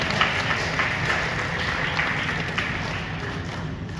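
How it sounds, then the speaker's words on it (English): A school assembly audience claps steadily for a student presentation, a dense even patter of many hands that holds throughout and fades slightly near the end. "let's give them a big round of applause"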